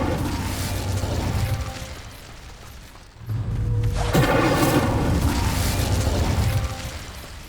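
An Incendio fire spell is cast in the Hogwarts Legacy video game, giving loud booming bursts with a clattering, mechanical edge, one sharp blast near the middle and steady roaring fire around it, with no talk.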